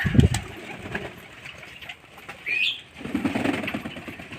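Freshly bathed pigeons sunning themselves coo softly nearby, with a brief flutter of flapping wings midway and a faint high squeak, and no one talking.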